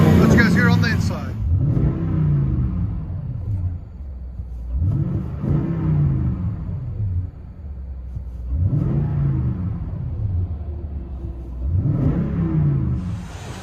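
A Toyota Tundra 5.7L V8 with dual 18-inch Magnaflow exhaust revs repeatedly: four deep, rumbling swells rise and fall in a steady rhythm, loud and close, with each burst dropping back to a low idle between pulls.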